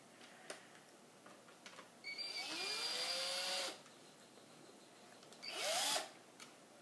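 Cordless electric screwdriver backing screws out of an HP DV6-1375dx laptop screen bezel, two separate whirring bursts, the first about a second and a half long with rising pitch, the second shorter, fairly close in a quiet room.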